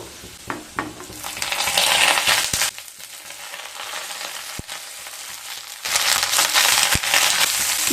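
Potatoes frying in a pan crackle and sizzle loudly close up, swelling into stronger bursts of hiss between quieter stretches, with occasional sharp knocks of a utensil.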